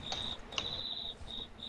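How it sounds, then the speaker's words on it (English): Crickets chirping in short high trilling bursts with brief gaps, faint and steady against a quiet background, with no talking. "No, I hear a crickets"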